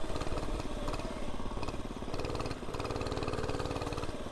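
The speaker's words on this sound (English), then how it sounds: "The HoverHeart 99cc mini bike. Let's pop her up." A HoverHeart 99cc mini bike engine revs hard and steady during an uphill wheelie, a loud buzzing small-engine drone that dips briefly and then pulls on close by.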